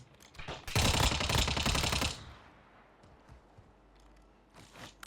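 Call of Duty Warzone played on a POCO F6 phone: a loud, rapid burst of automatic gunfire lasts over a second, then cuts off to quieter game ambience and a few faint clicks.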